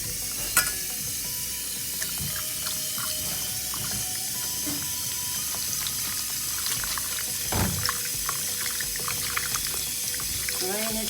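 Dandelion flowers get a quick rinse under cold tap water, the water hissing and splashing steadily into a sink with a few clatters.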